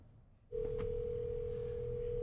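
A steady telephone dial tone starts abruptly and holds as one continuous even pitch while a call is placed over a phone line during a commission meeting, heard alone and fairly loud.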